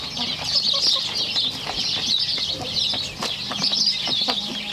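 Chickens on a country homestead cluck and chatter nearby in an ongoing, irregular stream, with no voices over them.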